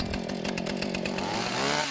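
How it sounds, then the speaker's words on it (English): A chainsaw cuts into a tree in a steady, loud, close-up whine with a slightly wavering pitch, running throughout without pause. "So today I'm going to be taking a chainsaw to a tree and cutting it down."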